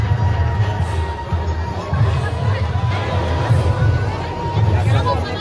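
Dense crowd hubbub in Vrindavan, a steady wash of overlapping voices, chatter and occasional cheers filling the whole stretch at close range.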